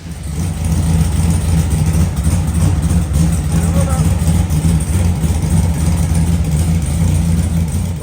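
A car engine idling steadily after its burnt-out wiring harness was rewired, a continuous low rumble held at close range for the whole stretch, with voices talking over it.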